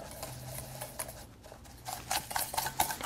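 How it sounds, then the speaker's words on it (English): Egg yolks, sugar and a little cornstarch are whisked together for a pie filling, starting as a faint scraping and building into quick, rhythmic metal clinks against the bowl, close and fairly quiet. "we're going to combine our egg yolks, our sugar, and just a little bit of cornstarch. And we're going to whisk these"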